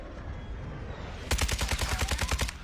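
Mortar strike in a military shooter video game: after a quiet low rumble, a loud close flurry of about eight rapid sharp blasts breaks out and then continues to the end.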